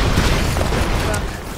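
Explosions in the video game Broforce burst in dense, loud succession, a rumbling blast that fades slightly toward the end, with players talking over it.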